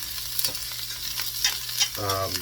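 Potatoes and mushrooms frying in a pan for an omelette give a steady close sizzle with occasional stirring scrapes, ending in a brief tonal clatter near the end.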